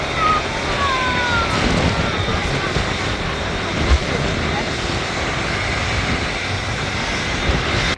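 An Airbus A330 airliner bound for JFK rolls down the runway for takeoff at Manchester Airport, a loud, steady engine roar with a rising whine that fills the whole stretch, as if heard from nearby.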